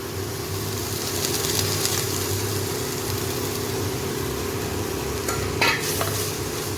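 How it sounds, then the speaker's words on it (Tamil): Spice powders are stirred and sautéed in a pan for egg rice, a steady low sizzle with repeated scraping stir strokes and a steady hum underneath, close and continuous. "நல்லா பொடியெல்லாம் சேர்த்து வசக்கியாச்சு"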